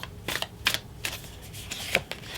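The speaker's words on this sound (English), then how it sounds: "this deck is so thick, it's always a little on the hard side to shuffle" Close, papery riffling of a thick tarot deck being shuffled, a few quick bursts in a row with no talking.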